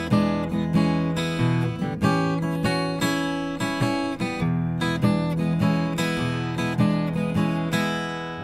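Acoustic guitar strums a blues progression in E with the quick change to A in the second bar, steady rhythmic strokes ringing close and clear with no talking.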